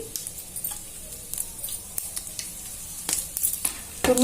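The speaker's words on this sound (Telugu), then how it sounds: "దినుసులు వేస్తున్నాను ఆవాలు జీలకర్ర ఇంకా కొన్ని మిర్చి గింజలు కూడా వేశాను" Mustard seeds, cumin and dried red chillies crackle in hot oil for a tamarind-style curry, with sharp close pops and spits over a bright frying hiss, no talking.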